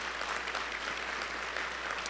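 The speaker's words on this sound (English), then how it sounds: "So a round of applause for him" A small crowd at an NJROTC commissioning ceremony applauds a World War II veteran, a dense, even patter of clapping hands throughout with no pause.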